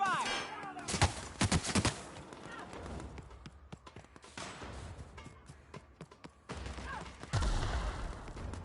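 Gunfire in a firefight in The Outer Worlds video game, sharp rapid shots in clustered bursts, with scattered sharper cracks and shouting voices in between.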